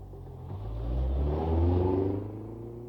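A family car drives off as a storybook sound effect, its engine rumbling and revving up smoothly, swelling and then easing over a few seconds, with no voices.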